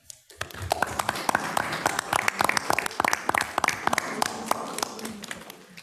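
Audience applause at a school board meeting, a scattered, moderately loud burst of individual hand claps from a modest crowd that starts abruptly and keeps going steadily.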